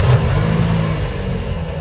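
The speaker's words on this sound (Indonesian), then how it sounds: "Wow, mesin 2400 cc-nya, 167 PS-nya, ini luar biasa. Halus 4 silinder." A 2007 Toyota Camry XV40 with a smooth 2.4-litre four-cylinder engine revs steadily up close, a loud mid-pitched hum that eases slightly toward the end.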